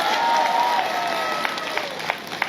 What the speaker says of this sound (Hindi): हाँ ताली जोर से बजाइए एक बार।